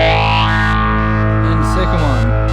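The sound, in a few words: Phase 90 phaser effect on guitar through amp simulator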